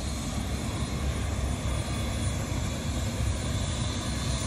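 A helicopter at a road crash scene on a highway with its northbound lane blocked gives a steady, loud, unbroken rotor and engine roar with no voices.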